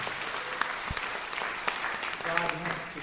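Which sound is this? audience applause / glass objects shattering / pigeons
audience applause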